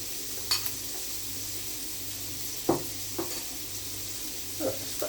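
Garlic, ginger and coriander paste sizzles in a hot pan for a chicken curry, a steady close hiss broken by a few sharp spatula scrapes and taps, with no talking.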